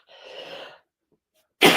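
A short, close breathy cough, followed after a pause by a louder abrupt cough, from a person who has just used a nasal spray.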